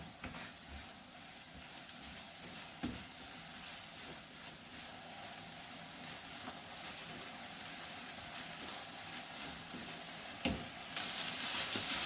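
Meat and shiitake mushrooms stir-frying for japchae give a constant, moderate sizzle like light rain, with occasional soft knocks of a utensil against the pan and a brighter hiss near the end.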